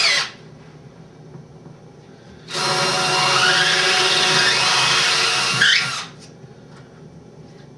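A power drill whirs steadily for about three seconds, boring a hole in an acrylic bird cage for a perch. Brief short drill bursts come before and after, all close and clear.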